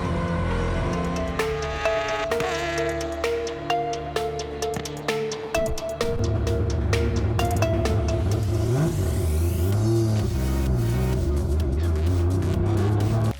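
A race car's engine revs hard up a hill climb, rising through the gears with sharp shifts and a high, strained note, then settling into a sustained roar, loud and close.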